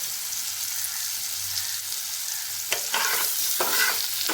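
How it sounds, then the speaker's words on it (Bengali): Cut potatoes hitting hot tempered oil for an ilish fish curry with aubergine, a steady background hiss that jumps into louder crackling sizzle bursts near the end as they are stirred in. "এখন আমি এর মধ্যে ছেড়ে দিচ্ছি কেটে রাখা আলুগুলো।"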